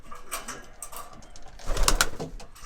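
Homing pigeons cooing in a loft, soft repeated throaty coos from several birds close by, with a few wing flutters and shuffles mixed in.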